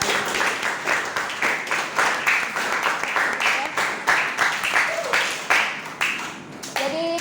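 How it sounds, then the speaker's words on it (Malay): A class of students claps in rhythmic bursts of group applause that rise and fall throughout. Short voices and a bit of laughter come in near the end. "cikgu nak kamu tepuk tangan untuk diri sendiri lah"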